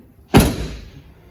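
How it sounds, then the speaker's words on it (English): A car door on a 2004 Chrysler Crossfire 3.2 swings shut with a single solid thud, close and loud, followed by a brief decaying ring as the body settles. "How does this door shut?"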